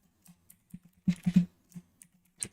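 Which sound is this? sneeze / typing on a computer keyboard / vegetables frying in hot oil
typing on a computer keyboard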